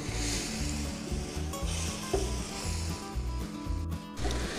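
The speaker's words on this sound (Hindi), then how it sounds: "अब ऑयल में इसे पकाएंगे, भून लेंगे अच्छे से।" Chicken pieces fry in oil in a karahi with a steady sizzle, broken by rhythmic scraping and stirring strokes from a spoon against the pan.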